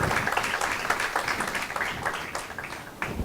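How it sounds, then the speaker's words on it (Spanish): Audience applause greets a special guest at a university talk program, a dense, fairly even clatter of many hands sustained throughout with no talking over it. "Por favor, un aplauso para nuestro invitado especial."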